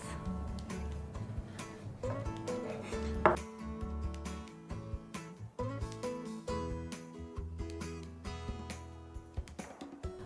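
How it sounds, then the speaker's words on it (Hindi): A sharp knife chops a chicken sandwich into pieces on a board, giving a series of crisp, irregular taps over steady background music. "And now with the help of a sharp knife, let's cut this out into pieces."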